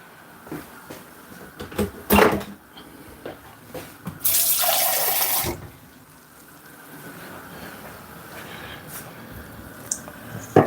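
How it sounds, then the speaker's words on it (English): Tap water running into a container for dumpling dough in a home kitchen, a steady hiss of flow for a second or two amid knocks and clatter of handling, with a quieter trickle continuing afterward. "Let's get a little bit more water."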